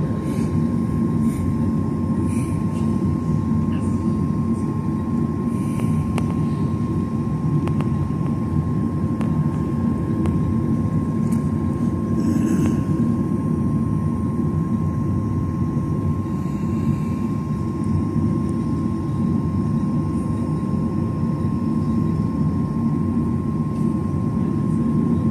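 A Delta Airlines Boeing 737-900ER jet takes off at full power from Los Angeles, heard from inside the cabin as a steady, loud engine roar with a constant tone and broad rumble throughout, with no speech.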